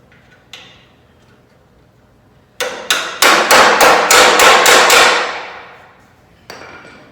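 Metal hammer blows ring out close by, driving tight-fitting pins into a vehicle frame: a couple of single strikes followed by a rapid run of about eight loud, ringing hits, then one more.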